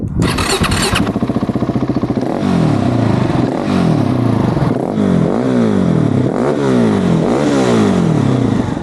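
A GasGas SM700 supermoto motorcycle engine fitted with a Remus accessory silencer starts with a burst, then revs up and down repeatedly in loud, rising and falling sweeps, close by and without talk.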